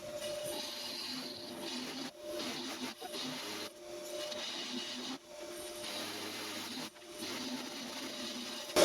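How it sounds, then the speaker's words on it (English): A metal lathe parts off a workpiece for a homemade rotary table with a steady, moderate grinding whir. The cut runs in long stretches broken by brief pauses, and no one speaks. "so I'll finish parting it off and show you what we've done."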